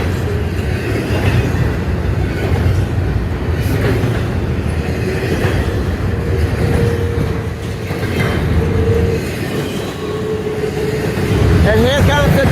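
Train rolling past near Harper's Ferry, West Virginia, a continuous rumble with faint clatter and a brief wheel squeal near the end, heard from some distance with a voice speaking over it.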